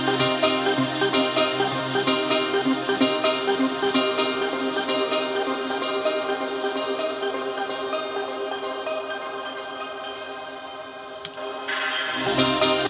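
Filtered electronic sound with automated filter movement and added reverb in a music production, heard as a dense, shimmering, continuous wash that slowly thins and darkens before a brighter burst returns at the very end.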